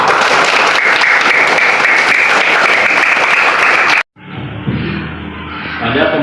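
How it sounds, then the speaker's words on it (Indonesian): A class of students applauds loudly and steadily for about four seconds before it cuts off abruptly, followed by quieter room sound and murmuring. "Ya, tepuk tangan kita semua"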